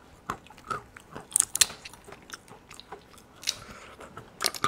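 Fresh, new-crop macadamia nuts bitten and chewed close to the mic, giving a series of sharp, irregular crunches with quieter chewing between them, and no talking.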